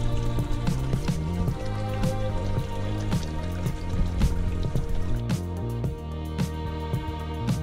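Water dripping and trickling in a calm, zen-style setting, with steady, close drips and light splashes forming a continuous pattern over a soft, tonal background.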